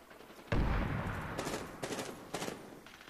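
Rapid gunfire bursts in the video game Medal of Honor Warfighter: a sharp burst opens, followed by several shorter volleys of repeated shots, fairly loud with no talking.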